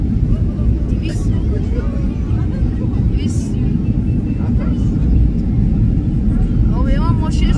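A passenger airliner lands at Imam Khomeini airport near Tehran, its cabin filled with a loud, steady low engine and airflow roar, while voices talk intermittently over it close by.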